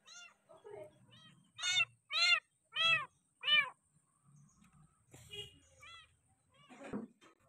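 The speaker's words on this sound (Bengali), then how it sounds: "আমাদের স্কুলে নিচতলায় যাওয়ার পর দেখি একটা বিড়াল কান্না করতেছে," A small rain-soaked kitten meows four times in quick succession, loud and close, with softer cries and rustling before and after; children's voices sound faintly in the background.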